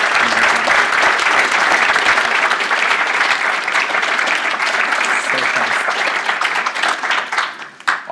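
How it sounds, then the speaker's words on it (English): Audience applause for a student panel at an admitted student day, steady dense clapping from a large crowd that runs loud and continuous, then tapers off near the end. "Let's give our panel a round of applause"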